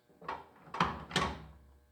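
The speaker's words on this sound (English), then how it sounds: "That's it. That's all it takes to lock those doors." Modern door latches fitted to a 1951 Ford hot rod, three quiet close-up clicks and clunks as the door is gently shut and latched, with a faint background hum.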